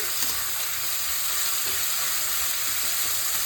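Onions browning in a small amount of oil in a pan for chicken curry, a dense, even, close sizzle that holds steady throughout with no talk over it.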